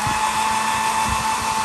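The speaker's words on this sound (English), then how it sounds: "kind of hit it with a dryer again." A hair dryer blows steadily on wet watercolor paint, a loud continuous whirring hum that runs unbroken from start to finish with no voices.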